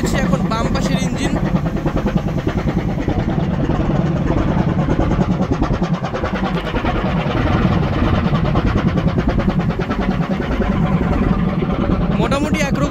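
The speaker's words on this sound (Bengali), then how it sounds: "এখন বাম পাশের ইঞ্জিন।" Left-side engine aboard the Parabat 12 river launch, a continuous heavy rumble with an even throbbing texture heard up close throughout, and indistinct background chatter.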